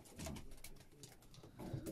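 Pigeons coo softly inside a dry pigeon loft, low faint burbling calls repeating throughout with light rustling and no talk.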